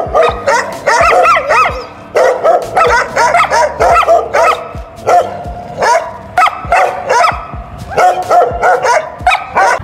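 Several dogs bark and yip continuously at close range, a dense, overlapping chorus of sharp barks with brief whimpers, loud throughout and with no talk.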